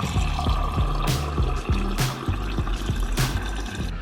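Electronic water-pouring sound played through a toy phone's speaker, a bubbly liquid gurgle with bright splashy bursts and steady rising tones, close and fairly loud.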